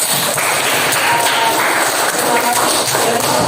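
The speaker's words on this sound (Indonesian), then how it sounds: "Kasih Bulat. aplaus dulu ya" Students in a high school classroom clapping for a classmate, a dense, close patter of many hands sustained through the clip.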